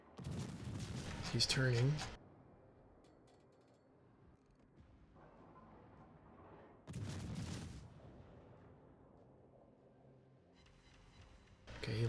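Naval HE shells fire from a warship's guns in a video game in two loud booming salvos several seconds apart, with quiet mechanical turret whirring between them and a voice speaking briefly.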